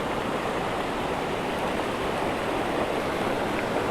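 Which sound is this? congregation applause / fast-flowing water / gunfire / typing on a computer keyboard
fast-flowing water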